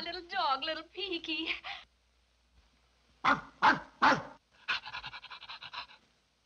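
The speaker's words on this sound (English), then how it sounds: "No, Ricardo, that's just my little dog, little Peaky." A small dog barks and pants in short yapping bursts, close and loud, in a stretch with no talking.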